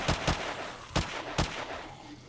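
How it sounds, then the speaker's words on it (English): Gunfire from a weapon fired from the hip in the zombie survival game 7 Days to Die, War3zuk mod. Four loud, punchy shots come in an irregular rhythm, a quick pair followed by two spaced single shots. "I'm shooting more from the hip"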